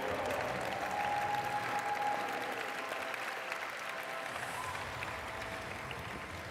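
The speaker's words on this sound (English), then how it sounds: "An absolutely stunning, big round of applause for that run for NimbRo." Audience at a robot avatar competition applauds after a course run by team NimbRo, a broad, even wash of clapping that gradually thins and softens toward the end.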